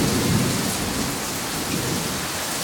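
Heavy rain pours steadily during a strong thunderstorm in central Oklahoma, heard from a back patio as a dense, constant wash with low rumbling underneath and no talking.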